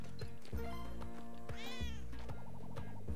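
Cat meowing in the platformer Spelunky 2: a few short, rising game meows over a busy backdrop of rhythmic music thumps and other game effects.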